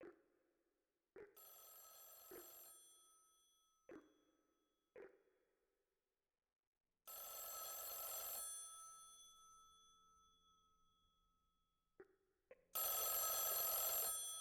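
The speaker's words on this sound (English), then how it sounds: "You pick up the phone." Telephone ringing in a video game: loud bursts of a bright, electronic bell tone separated by silences, with several sharp clicks and pings scattered between the rings, close and alone.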